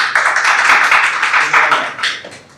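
A class of students gives a short round of clapping in a classroom, a dense burst of many hands that stays steady for a couple of seconds and then tapers off.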